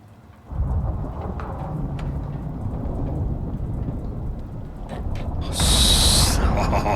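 Thunderstorm in the survival game Icarus: a steady roar of heavy rain with low rumbling thunder throughout, swelling into a louder, sharper crack near the end, with no talking.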